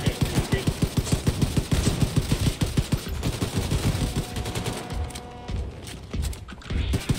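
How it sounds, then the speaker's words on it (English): Rapid automatic gunfire in the Wolfenstein II video game hammers out a fast, loud, evenly spaced burst. Scattered shots and impacts follow as the firing thins out, with a few faint game sounds near the end. "They're shooting like rockets at me."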